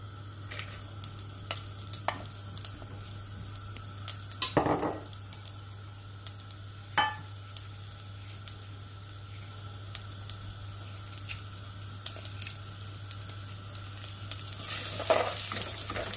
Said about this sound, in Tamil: இப்போ இந்த எண்ணெய் கொஞ்சம் கொதித்ததுக்கு பிறகு நாங்கள் இதோட வெங்காயமும் கருவேப்பிலையும் சேர்த்துக்க போகிறோம்